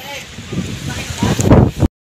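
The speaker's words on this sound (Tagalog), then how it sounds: "Sobrang mahangin dito" Gusty wind buffeting the microphone in uneven bursts at a high campsite overlooking a sea of clouds, loud and rumbling, with a voice mixed in.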